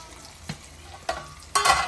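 Rajma (kidney bean) curry fries in a pan, with quiet sizzling punctuated by three short scraping stirs of a spoon, the last one longest and loudest.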